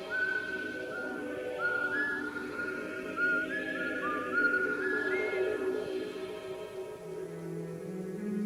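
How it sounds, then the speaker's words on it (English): Synthesized whistling from an electronic album, a wavering, gliding whistle-like melody that rises and falls over a sustained synth pad, steady and fairly loud throughout with no voices. "There's that whistling."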